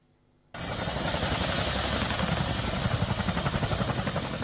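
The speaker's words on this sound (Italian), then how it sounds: "prove di atterraggio di due super elicotteri Chinook per il trasporto di truppe" Two CH-47 Chinook military troop-transport helicopters land at Ferrarin airport: after a brief quiet moment, a sudden loud, close rotor roar sets in and holds steady, with a rhythmic chopping pulse running through it.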